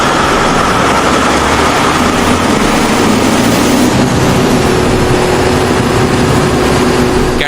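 A Caterpillar C175 diesel engine, the kind used in the largest mining haul trucks, runs with a loud, steady, dense rumble and roar that holds constant throughout without change in pace.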